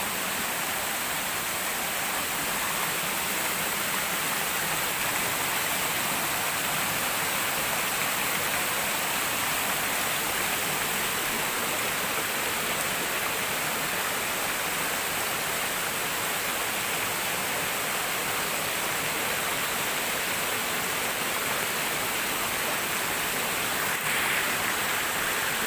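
Powerful forest waterfall roars as a steady, loud broadband rush of falling water, continuous and unbroken throughout, with no voices over it.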